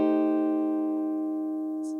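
A single guitar chord, a B altered voicing in a gospel style, is struck once and rings out clean and close for about two seconds, decaying slowly with no other sound.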